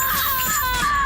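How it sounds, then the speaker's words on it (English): A loud, piercing scream from a video game wails without a break, its high, strained tones wavering slightly throughout. "Watch out for the scream, it's really loud."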